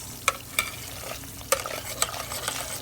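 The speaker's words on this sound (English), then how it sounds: "wait until this coconut milk is cooked, until it's changed" Coconut milk cooking down in a pan for a Thai curry gives a steady soft bubbling sizzle, with several sharp clinks of a utensil against the pan at scattered moments.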